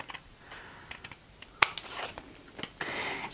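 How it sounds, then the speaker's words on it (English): Soft snips and rustles of scissors cutting a paper triangle for a paper tulip craft, a few quiet cuts scattered with faint paper handling, close and with no talk. "we're just going to cut out the triangle just like before"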